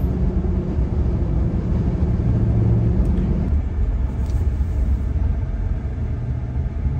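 Steady road roar from off-road mud-terrain tires, Nitto Trail Grappler or Milestar Patagonia MT 02, heard from inside a vehicle cruising at about 40 mph: a continuous low rumble and hum that eases slightly midway, with no talking.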